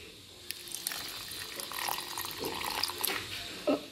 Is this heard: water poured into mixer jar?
yes